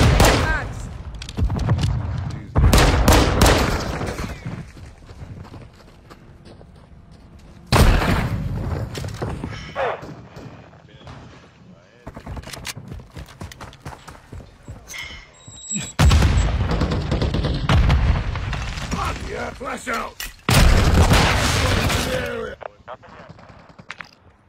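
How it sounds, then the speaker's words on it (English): Semtex grenade explosions and rapid gunfire in a duo multiplayer shooter game, with repeated loud booms and bursts of shots in dense clusters, and players talking excitedly over the action. "Throwing Semtex!"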